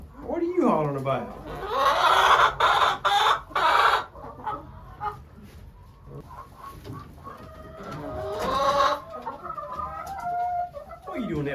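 Hens cluck and squawk inside a chicken coop, close and loud in busy bursts with a rooster-like call among them, while a person talks between the noisy outbursts.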